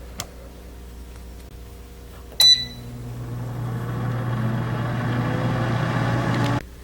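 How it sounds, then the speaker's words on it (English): A Cooks Essentials 5.3-quart air fryer set to 360 degrees starts with a sharp beep, then runs with a steady low fan hum and whir for several seconds before cutting off with a click. "And now I'm gonna put it back into my air fryer."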